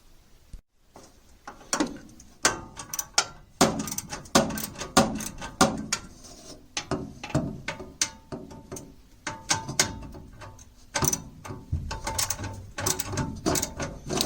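Screws being loosened on an American Standard Ameristar furnace burner, with a dense run of close ratcheting clicks and metallic tool taps repeating steadily throughout, loud and nearby with no talking.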